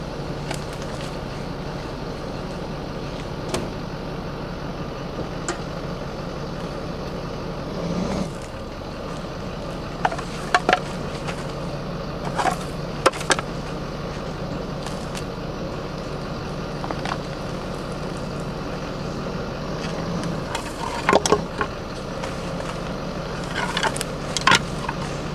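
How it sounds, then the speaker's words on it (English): A pickup truck idles at an RV boondocking campsite, a steady low engine rumble running throughout. Scattered clanks and knocks from setup work rise above it at intervals. "we're going to leave the truck running"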